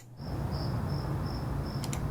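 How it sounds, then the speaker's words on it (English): Crickets added as a sound effect in a film edit chirp in steady, evenly spaced trills, soft and continuous over a low background hum, with no voices. "So we're going to add our own crickets."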